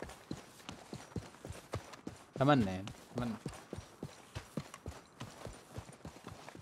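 Horse hooves clip-clopping in a video game heard through a gaming headset, a steady run of sharp, evenly spaced hoof beats, with someone talking briefly over them partway through.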